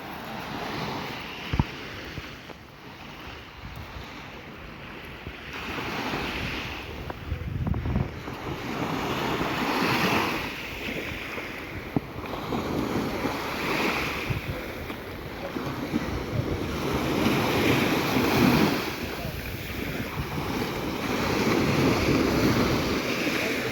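Sea waves at an Odesa beach in cold weather wash onto the shore in repeated surges under steady wind buffeting the microphone, loud and continuous throughout.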